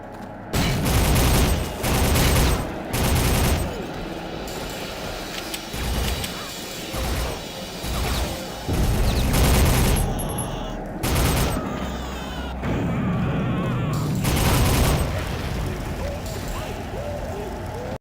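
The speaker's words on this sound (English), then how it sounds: "The NATO bombing has begun." Heavy bursts of gunfire and explosions from a NATO bombing in the PC shooter Soldier of Fortune, loud and repeated in clusters throughout, with a voice speaking between the blasts.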